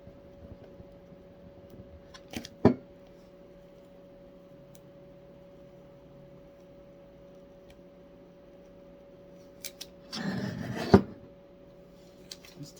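Vinyl decal being rubbed onto paper transfer tape during a craft project: two brief scratchy rubbing bursts, one short and one longer, close by over a steady low hum and otherwise quiet room.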